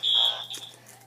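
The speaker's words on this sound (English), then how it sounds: "Excuse the beeping." A single steady, high-pitched electronic beep holds for a moment, then fades into a quieter room with faint background noise.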